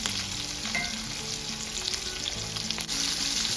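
Ribeye steak pan searing over medium-high heat, an intense, steady close sizzle and crackle that runs unbroken throughout with no voices.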